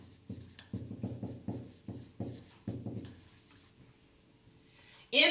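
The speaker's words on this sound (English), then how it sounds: "Here's what you write next." Pen strokes scratching on paper as notes are written during a maths lesson, a series of about ten short rhythmic scribbles close by, followed by a quieter pause and a sharp brief noise at the end.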